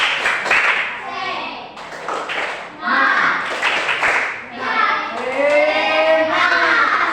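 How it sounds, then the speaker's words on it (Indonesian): Children doing a rhythmic tepuk semangat spirit clap in a classroom, bursts of patterned group clapping woven through lively chanting and speech from the kids and a teacher. "Kita mulai ya. Tepuk semangat."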